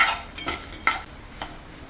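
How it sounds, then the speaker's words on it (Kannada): Black pepper and cumin frying in a pan while a spoon stirs them, with a few distinct scraping strokes over a faint steady sizzle, close and fairly quiet. "ಇದ್ರ ಜೊತೆಗೇ ಫ್ರೈ ಮಾಡ್ಕೊಳ್ಳೋಣ."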